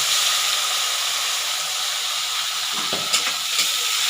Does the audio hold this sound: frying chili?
yes